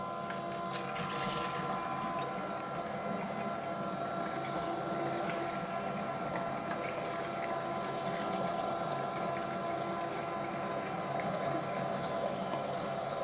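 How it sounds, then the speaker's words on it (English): A meat grinder fitted with a 6 mm plate minces a cabbage and onion mix for saucisse de choux, giving a steady close mechanical whir with a constant motor drone and no talking. "I have now switched over to the 6 mil blade and will start grinding that mix."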